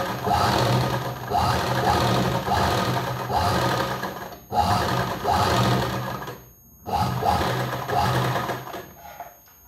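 A sewing machine stitches the lining of a katori blouse in steady, loud, close runs of rapid mechanical whirring, broken by short pauses between bursts.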